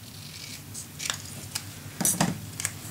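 Several short, crisp snips and rustles of paper being cut for a handmade mini album, quiet and close with brief pauses between cuts.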